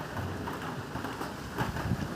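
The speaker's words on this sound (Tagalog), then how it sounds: "Umuulan po guys." Rain falls steadily at a rural rest house by a vegetable farm, a soft continuous hiss and patter at low level, with no voices.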